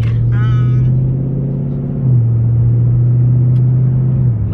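A car idles with a steady low engine hum that dips in pitch partway through, with brief voices at the start and no strong revving; launch control is being demonstrated.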